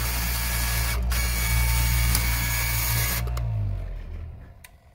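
A straight knife fabric cutting machine runs its built-in blade sharpener, a loud, steady whirring mechanical drone with a brief interruption early on, then winding down and fading near the end.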